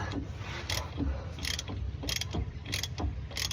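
A hand ratchet turns the pinion nut on an Isuzu Hilander. The nut spins too easily, giving a close, steady run of sharp clicking bursts at an even pace with no talking.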